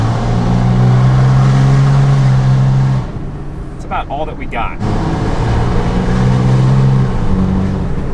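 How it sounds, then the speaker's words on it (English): Cummins 5.9 diesel pickup truck heard from inside the cab, a loud droning engine and turbo sound that drops away briefly midway then returns steady, with a short spoken remark. "I gotta give you guys an inside turbo sound."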